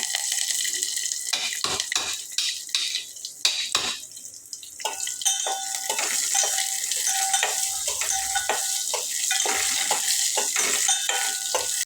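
Curry leaves, asafoetida and finely chopped coriander are stirred in hot oil in a pan, giving a steady close sizzle with repeated scraping and clattering spoon strokes and no talking.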